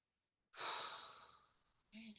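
A person takes one slow, breathy inhale-exhale, soft and close, fading out gradually before a short voiced sound begins at the end.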